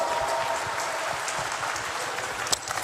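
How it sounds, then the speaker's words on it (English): Audience applause for three guests at a stage launch event for World Cup coverage, a steady wash of clapping heard at moderate distance, continuous throughout with no talk over it. "ladies and gentlemen, a big round of applause for the three guests on with us."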